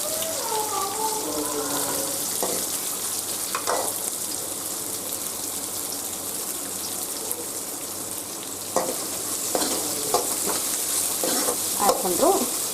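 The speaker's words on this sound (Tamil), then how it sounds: "நல்லா வெங்காயம் கோல்டன் ப்ரௌன் கலரில் வர்ற மாதிரி நல்லா வதங்க விடணும்" Onions fry in a pan for pepper chicken kurma, a soft continuous sizzle broken by occasional utensil clinks and stirring scrapes, fairly quiet and without speech.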